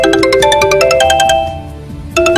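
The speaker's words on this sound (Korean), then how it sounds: "사장님의 핸드폰이 울리기 시작하였고" A mobile phone ringtone plays a bright, loud electronic melody of rapid repeated notes, pausing briefly before starting again.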